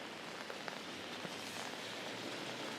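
Rain pattering on an umbrella during a city walk in downtown Singapore, a soft, steady hiss of drops with a few sharper taps, close and faint.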